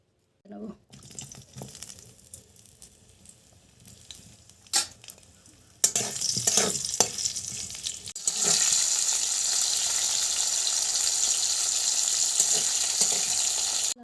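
Vegetables for Bengali sukto frying in oil, quiet scattered stirring clatter at first, then a louder, steady sizzle that builds and holds to the end.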